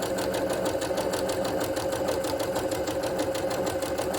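A sewing machine stitches a hanging tab onto a quilt, running steadily at an even, rapid rhythm and heard close and alone.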